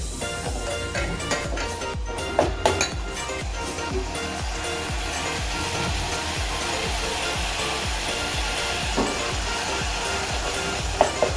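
Ground masala paste frying in oil in a pan, a steady close sizzle and crackle continuing throughout with light scraping stirs.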